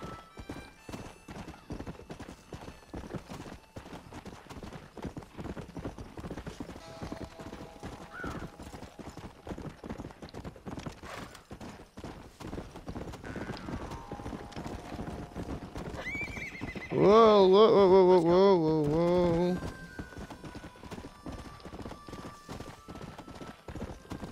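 A horse gallops in Red Dead Redemption, with rapid, steady hoofbeats all the way through and a loud, drawn-out whinny near the end.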